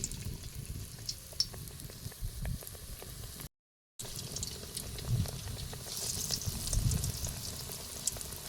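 Bread bajji, halved bread slices in batter, fries in about a litre of hot oil, a steady close sizzle and crackle with faint stirring and turning sounds, briefly cut by a moment of silence.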